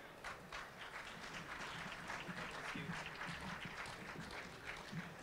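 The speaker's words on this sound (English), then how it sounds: "Let's have another round of applause for that outstanding lineup." Faint, steady audience applause at an outdoor fair entertainment event, a continuous wash of many hands clapping with no voices over it, sounding somewhat distant throughout.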